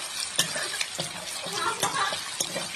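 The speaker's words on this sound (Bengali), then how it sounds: "দেখো এদিকে আমি রান্না করছি। তো রান্না করছি কাঁঠালের সবজি" Jackfruit curry with small pieces of meat cooking in a pot, a steady sizzle broken by repeated scraping stirs at a close distance, with no talking.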